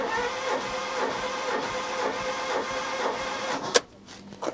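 A Rover 114 GTi 16V's engine cranks over during a compression test, with a steady rhythmic whirring churn of the starter pulsing about twice a second, close up, ending abruptly with a sharp click and near silence.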